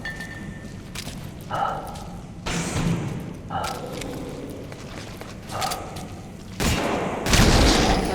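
Gunfire and heavy thuds burst out in Metal Gear Solid V: The Phantom Pain, several loud separate volleys spread across the stretch with short quieter gaps between them.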